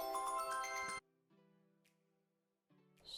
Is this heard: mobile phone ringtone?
yes